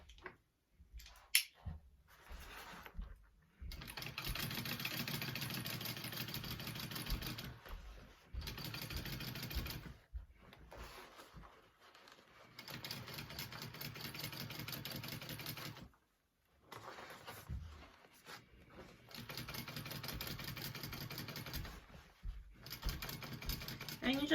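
A sewing machine top stitches a Denver mini backpack in several whirring runs of a few seconds each. Brief pauses separate the runs, and the machine sounds close and clear.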